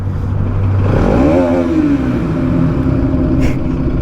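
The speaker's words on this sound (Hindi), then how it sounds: "अपनी बाइक को रोकते हैं और थ्रॉटल लेते हैं और भाई सुनते हैं आवाज़ को" A Bajaj Pulsar NS200 motorcycle stopped on a highway has its throttle blipped, a loud close rev rising sharply from idle then settling into a steady rough engine roar.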